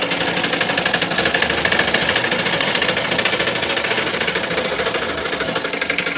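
A sewing machine is cranked steadily, its stitching mechanism making a loud, continuous rapid clatter with an even mechanical rhythm throughout.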